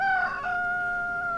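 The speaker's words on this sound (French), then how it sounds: "le chant du coq monta d'une métairie." A rooster crows from a farmstead, one sustained, clear call holding steady tones for over a second, fairly close, with no voices over it.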